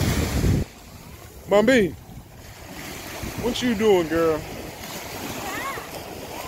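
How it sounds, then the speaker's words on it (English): Ocean surf washes steadily on a beach in Cancun, with wind buffeting the microphone; a voice and a few short calls break in above the constant rushing waves. "but the ocean, huh?"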